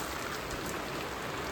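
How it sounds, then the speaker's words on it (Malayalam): Sudden monsoon rain in Vagamon falls steadily with no break, a dense broadband patter that is moderately quiet with no voices over it. "പെട്ടെന്ന് മഴ പെയ്തു"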